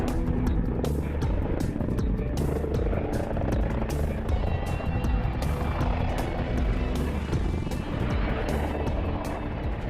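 A US-101 presidential helicopter flies with a loud, continuous rotor thump and engine roar, steady and close throughout, with no talk.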